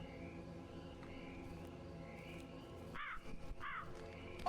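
Crow caws in the video game Tales Beyond The Tomb: The Last Vigil, two harsh calls close together near the end over a steady ambient game soundscape with insect-like chirring.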